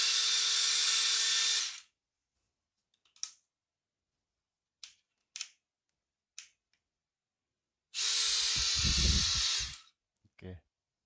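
A DeWalt 12V Xtreme cordless drill whirs in two short bursts, each about two seconds long, separated by silence and scattered faint clicks.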